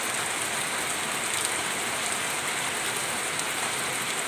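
Steady rain falling, an even, dense hiss of drops on surfaces that continues without a break, with no other sounds standing out.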